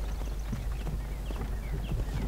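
Horse hooves clip-clop in a steady walking rhythm within a Skyrim-style fantasy video game, set against a constant low game ambience and background din, moderately loud and close throughout.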